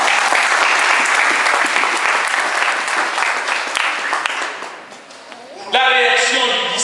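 A church congregation applauding in acclaim of the Lord, loud sustained clapping from a large crowd that thins out briefly before a musical tone and renewed noise come in at the end.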